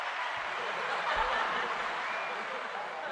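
Applause sound effect played on a livestream, a steady dense wash of clapping running evenly through the whole stretch, fairly loud with no voices over it.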